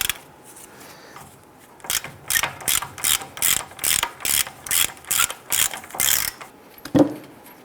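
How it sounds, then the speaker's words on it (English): A ratchet fitted with a 21mm socket loosens the outer tie rod nut on a 2002-2008 Dodge Ram 1500, giving about a dozen quick, evenly spaced clicking bursts, close and loud, with no talk. "go ahead and loosen this nut"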